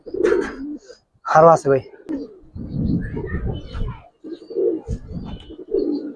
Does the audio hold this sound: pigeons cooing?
yes